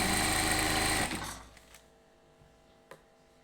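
A sewing machine runs steadily at close range, stitching the neck of a round-neck front-button nighty, then stops after about a second, leaving only faint handling clicks.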